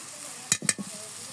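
Turmeric and chilli spices fry in a pan, with a soft sizzle broken by two or three quick scraping stirs, brief and close.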